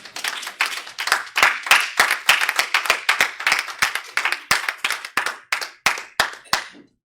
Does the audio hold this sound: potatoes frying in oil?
no